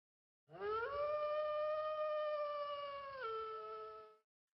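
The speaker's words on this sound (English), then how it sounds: "It sounds like a wolf. Or a whole group of wolves." Wolves howl as a pack in one sustained, layered chorus of rising then gliding tones. It is loud and close, with no talk over it.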